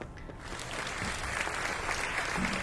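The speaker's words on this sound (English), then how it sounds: "Thank you for the applause." Applause from a small group, a steady patter of clapping that builds slightly and holds, fairly close with no voices over it.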